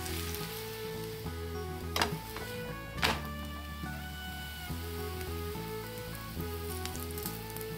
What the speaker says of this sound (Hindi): यहाँ पर आलू या फिर प्याज हमारे इस तरह से गोल्डन फ्राई हो जाते हैं।